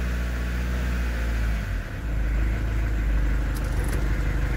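A camper van engine idles after starting, dips briefly, then is revved up to a steady, louder, close drone that holds to the end.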